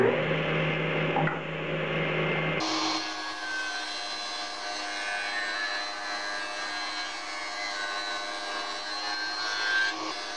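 A handsaw works through 2x lumber to cut bench legs, a steady rasping, scraping stroke sound that shifts in tone partway through, fairly close and continuous without speech.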